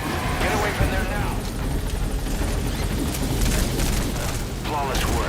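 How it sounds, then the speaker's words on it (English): Helicopter touching down in Metal Gear Solid V: The Phantom Pain, a dense steady rotor and engine roar filling the scene, loud and close, with game dialogue and radio voices talking over it throughout. "Chopper's touching down."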